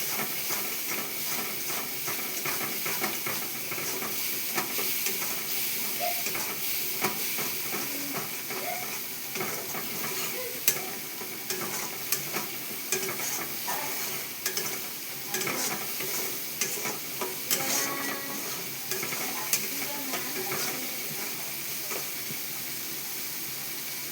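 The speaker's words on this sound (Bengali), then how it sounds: "হলুদ গুঁড়ো আর একটু শুকনো লঙ্কা গুঁড়ো দিয়ে এবার আমি এটাকে ভালো করে কষিয়ে নেব।" Turmeric and dry chili powder sautéing in oil in a pan for a vegetarian pointed gourd (potol) curry, a steady close sizzle and hiss with stirring scrapes running throughout.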